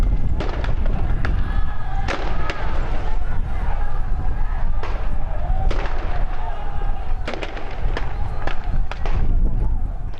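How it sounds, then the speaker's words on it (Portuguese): Police stun grenades and non-lethal gunfire during a prison riot, with sharp bangs and thuds going off repeatedly at irregular intervals over a constant roar of crowd noise and shouting, loud throughout. "A PM tenta conter a situação com bombas de efeito moral e tiros de arma não letal."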